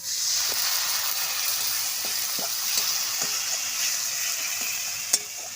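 Spiced masala frying in a pan for a snakehead fish curry, sizzling steadily with a light hiss after a splash of water, with occasional clicks of stirring close by.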